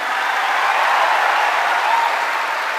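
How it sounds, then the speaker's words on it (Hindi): A large stadium crowd at a Delhi success day event applauds, a dense, steady wash of loud clapping that holds evenly throughout without any speech. "प्लीज इतनी जोर से तालियां बजाना इन सबके लिए कि ये पूरा स्टेडियम मिल जाए।"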